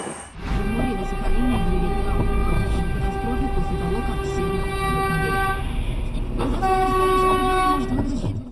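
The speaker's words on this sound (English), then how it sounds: "A car became stuck on the tracks as a train approached." A train rumbles loudly past at close range toward a car stuck on the tracks while its horn blares in long sustained blasts, with a voice faintly audible beneath.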